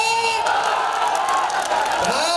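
A large crowd cheers and shouts loudly and continuously, a dense roar of many voices with whoops rising above it.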